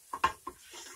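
A spatula scrapes and taps as butter is spun around a hot skillet for an egg sandwich, a few faint close clicks with a soft sizzle between them.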